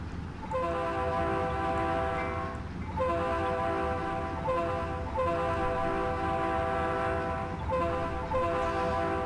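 A BN C30-7 locomotive in the Trainz video game sounds its horn in sustained chord blasts, repeated several times with short breaks, over a steady engine rumble.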